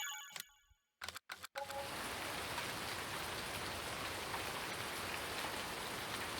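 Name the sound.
rain in video game Farming Simulator 2019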